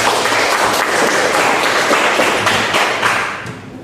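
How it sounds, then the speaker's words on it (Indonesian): A classroom breaks into applause after a student's answer: many hands clap loudly and steadily for a few seconds, close and dense, then fade slightly at the end. "Ya, bagus, tepuk tangan."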